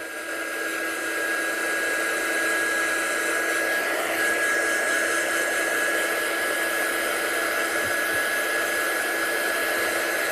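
A heat tool or hair dryer blows steadily on a stencilled craft card, a loud, continuous whooshing hum with a thin high whine that holds unchanged from start to finish with no talking.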